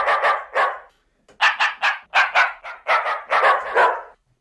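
Dog bark sample played back as a simple synth, giving a run of about twelve loud, tonal barks in groups of two and three with a short gap after the first pair, close and with no talking.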